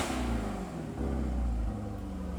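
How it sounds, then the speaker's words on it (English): Demon-swapped Jeep Trackhawk with a functional engine and transmission, running steadily with a deep low rumble and slight rise and fall in pitch, close and continuous. "we got a functional engine and a functional transmission"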